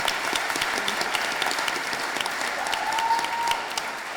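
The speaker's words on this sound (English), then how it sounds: "keep the applause coming for Cinemates." A pitch-night crowd at the 2022 Brown Venture Prize gives sustained, loud applause after a startup pitch, a thick wash of clapping with a faint tone sounding briefly near the end.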